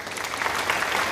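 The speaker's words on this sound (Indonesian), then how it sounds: "Beri tepuk tangan dulu" Classmates applaud in a classroom during an economics teaching-practice lesson, a brief, steady burst of dense clapping at close range with no talk over it.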